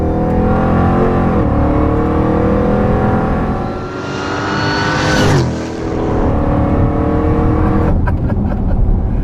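A loud, close 1,000 HP modified Jeep Grand Cherokee engine revs and accelerates continuously, its pitch climbing, dipping briefly in the middle, then roaring back up.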